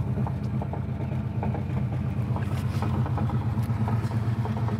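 A 1980 Pontiac Trans Am Indy 500 Pace Car idles with a deep, steady low rumble and a slight lope, heard close and loud on its own with no talk.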